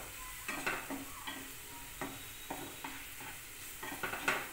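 A roasted zunka mixture with crushed peanuts is stirred in a pan, giving repeated scraping, clinking spoon strokes over a soft, steady sizzle, close up and without speech.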